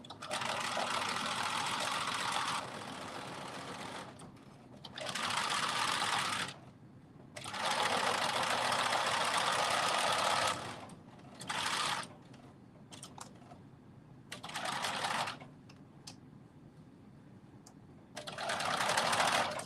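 A sewing machine stitches a half-inch seam allowance on fabric scraps, running in several loud, close, whirring bursts of a few seconds each, separated by short pauses for quick back stitching.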